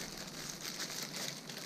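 Plastic foil wrapping around a brand-new Nippon K 147 camera being crinkled as it is unwrapped, a soft continuous rustle close by with no talking.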